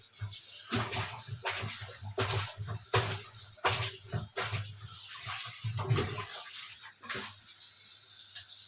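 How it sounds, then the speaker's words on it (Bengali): Dishes and utensils are scrubbed and rinsed under running tap water in a home kitchen, heard close as repeated short gushes and splashes with brief pauses between them. "বাসন টাসন মেজে সব পরিষ্কার করে নিতে"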